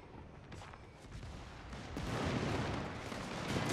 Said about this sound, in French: Ah mais c'est du napalm, c'est quoi ce délire?